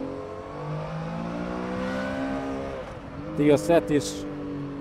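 A Triumph Tiger Sport 800 motorcycle in road mode accelerates smoothly, with a rising engine whine heard up close. A rider speaks briefly over it near the end.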